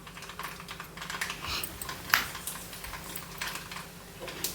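Mustard seeds pop and crackle in hot oil in a home kitchen, a fairly quiet, irregular stream of sharp close clicks with one louder snap midway and no voice.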